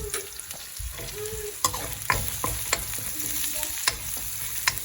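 Asafoetida, red chilli, coriander-cumin and garam masala crackling and sizzling in hot oil for sambar tempering, with repeated sharp clinks and scrapes of a spoon stirring the pan, close and clear.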